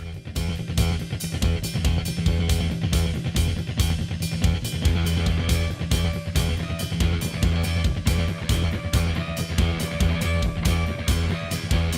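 A rock song: dense, loud rock with jagged distorted guitars over busy, irregular drum patterns, thick and continuous throughout with heavy low end.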